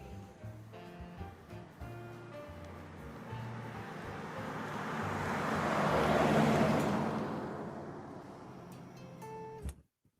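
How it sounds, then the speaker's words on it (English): A car-passing sound effect in a Minecraft roleplay game rises to a loud whoosh near the middle, then fades and cuts off abruptly, layered over a faint background music bed. "That car sound effect whizzed past before the car appeared."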